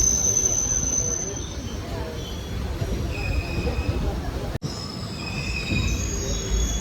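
Guruvayur passenger train curving onto its own line, wheels squealing in long, thin, steady tones over a continuous rolling rumble, heard from inside the train.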